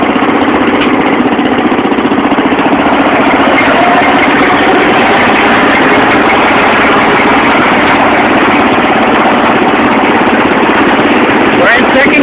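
A mud mower engine drives continuously and loudly up close, a steady rough roar as it shifts into second gear, with no clear speech over it.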